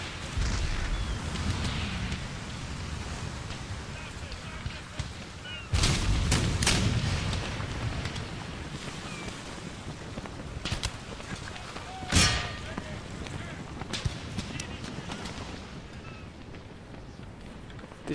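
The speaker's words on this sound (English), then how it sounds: "Ouch, that's a bombardment there." Naval cannon bombardment in Empire Total War, with heavy booming broadsides over a continuous rumble of battle; strong blasts around the middle and a sharp crack later, then scattered fainter shots.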